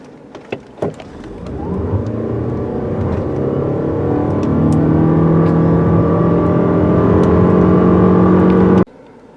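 A 2021 Toyota RAV4 Prime plug-in hybrid in sport mode accelerates hard, its engine note rising steadily and growing louder over several seconds, heard from inside the cabin after a few brief clicks, then cut off abruptly.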